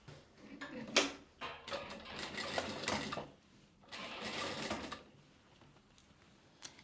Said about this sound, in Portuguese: vou vir aqui, ó, na pontinha, fazendo aquela costura de arremate.